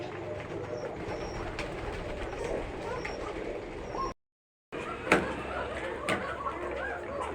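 Arabian white Coca pigeons coo softly in a loft beside a hatching chick, a continuous busy layer of bird sounds with a brief dropout and a few sharper knocks.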